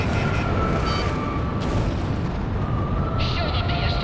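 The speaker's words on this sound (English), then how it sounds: "Missile struck target." Missile explosion in the Ace Combat 6 flight combat game, a loud rumbling blast inside dense, continuous jet and battle noise, with some higher tones layered on top.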